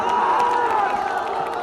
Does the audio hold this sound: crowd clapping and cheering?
yes